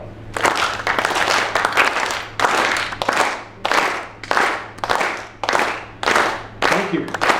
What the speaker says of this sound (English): Clap your hands slowly in unison, and don't stop until I say stop.